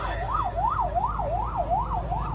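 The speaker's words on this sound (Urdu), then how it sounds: "ایمبولینس کو راستہ دلوائیں, ایمبولینس کو راستہ دیں" An ambulance siren wails in a steady rising-and-falling cycle at a street protest march, loud and fairly close, with street noise underneath and no clear speech.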